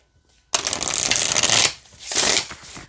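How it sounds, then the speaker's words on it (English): A tarot card deck is shuffled up close in two quick riffling bursts, the first longer and the second shorter, separated by a brief pause. "here is how it shuffles"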